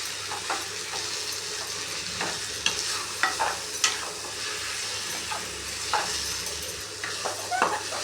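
Mango pachadi sautéing in a pan is stirred steadily for about eight seconds, a soft continuous sizzle overlaid with scraping and occasional sharp clinks of a spoon against the metal pan, close and fairly loud, with no talking.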